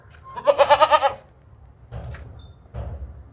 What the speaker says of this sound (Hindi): कुर्बानी वाला बकरा है, 2 दांत है।